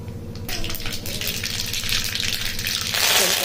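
Mustard seeds crackle and sizzle in hot oil in a kadai, a dense continuous frying hiss that stays loud and steady throughout, with a low steady hum beneath.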